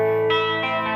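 Electric guitar chord ringing out through a NUX Trident multi-effects unit with its effects engaged, a heavy hall-like reverb and echo wash sustaining as the strum swells slightly, steady and loud with no talking.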